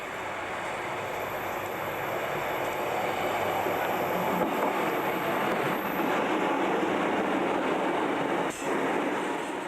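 A train runs along the Grimsby to Barton line, its steady, loud, broadband rumble and rolling wheel noise holding throughout, with no voices.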